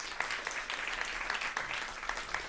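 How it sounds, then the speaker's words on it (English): An audience applauds the filmmakers at an agriculture and climate event, a moderate crowd clapping steadily with a few sharper individual claps standing out, somewhat distant in a room. "Give them a round of applause, please."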